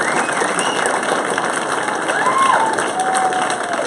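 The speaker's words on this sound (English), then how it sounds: "So big hand of applause for them." Crowd applause at a startup demo day for a cohort, steady dense clapping with some cheering, whistle-like tones rising over the top partway through.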